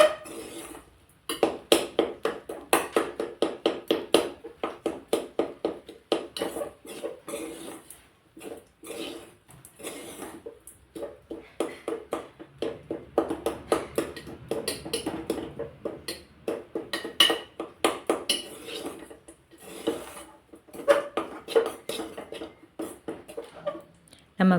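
A spatula scrapes and taps repeatedly against a pan while idli upma is stirred and its lumps are broken up, steady rhythmic clatter close by with a brief pause, and someone talks over parts of it.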